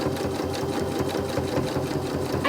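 A sewing machine stitches a fabric face mask, its needle chattering in a fast, even rhythm, loud and close, running continuously without talk.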